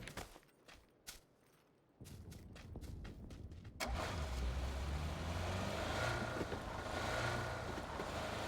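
A vehicle drives in the PUBG video game: quiet ticking and rustle at first, then a loud, steady engine roar with wind-like rushing that holds to the end, no talk.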